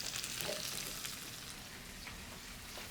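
Red, yellow and green peppers sautéing with onion in a hot pan give a steady, close sizzle of broad hiss that runs evenly throughout without a break.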